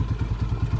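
Motorcycle engine fitted with a spring kick-starter, running close by with a rapid, uneven pulsing thump and clatter at a fairly loud level, no voices.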